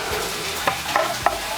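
Capsicum and garlic sautéing in a pan give a steady, close sizzle with a few sharp scrapes of stirring, and no one speaks.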